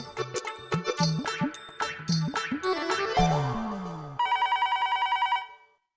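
A telephone rings repeatedly in a bright, trilling pattern, ending with a faster electronic ring burst before falling silent.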